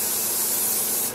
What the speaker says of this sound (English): I like this clear coat in the aerosol can